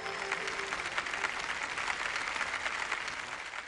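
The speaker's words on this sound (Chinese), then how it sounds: "掌声有请。" Steady applause from a lecture audience fills the room as a speaker is welcomed to the stage at a public archaeology talk on Chinese brick paintings, dense and even throughout, moderately distant and without voices.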